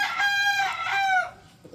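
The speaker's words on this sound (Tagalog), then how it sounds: "Yan, dalawa na yung bulik natin." A bulik rooster lets out a single loud, close crow, a harmonic call that rises and falls over about a second and a half before trailing off into faint background noise.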